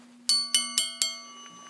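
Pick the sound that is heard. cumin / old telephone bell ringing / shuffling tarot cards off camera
old telephone bell ringing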